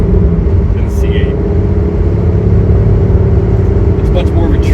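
A Corvette C5 Z06 rumbles with a deep, steady engine drone from inside the car on a night drive, loud and continuous with no sharp changes in revs.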